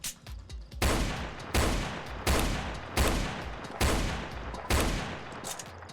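Desert Eagle pistol fire in the Roblox game Zombie Tycoon, a run of loud booming shots spaced under a second apart, each cracking hard and ringing out before the next, no voices.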